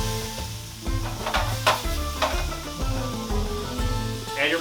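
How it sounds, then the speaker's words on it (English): Mushrooms and garlic sauté in oil in a pan, a steady sizzle with repeated scraping strokes of a utensil stirring them, close and without voices. "Your mushrooms get nice and sauteed."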